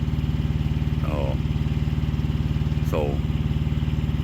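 A 1997 Kenworth W900L truck engine runs with a steady low rhythmic diesel throb, loud and close, with two brief rising tones over it.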